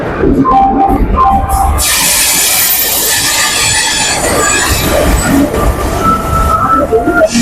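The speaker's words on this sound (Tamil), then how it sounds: "பிளாட்ஃபார்ம் நம்பர் 1ல செம்மொழி எக்ஸ்பிரஸ் உள்ள வந்துட்டு இருக்கு" The Semmozhi Express rolls in at platform 1 with loud rumbling and steady clatter, a high metallic squeal and hiss rising partway through, with faint voices in the background.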